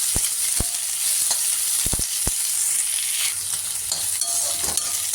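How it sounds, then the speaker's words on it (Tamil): Onion, curry leaves and green chilli frying in a pan, with a steady broadband sizzle throughout and several sharp clicks of a spoon against the pan early on, close and alone with no voices. "பச்சை மிளகா போட்டு நல்லா வதக்கிடணும்"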